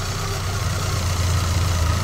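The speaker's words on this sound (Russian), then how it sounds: "Так, движок сейчас пока так работает." A Volkswagen Golf 2 engine idles during break-in, a loud, close, steady mechanical rumble with a low throb and no voices.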